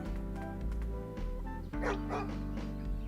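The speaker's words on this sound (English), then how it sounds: "Hey, you barking at me, doggy?" Dog barking in the video game Lost Kingdoms 2, repeated short barks and yips over steady game music in a desert setting, with no talk.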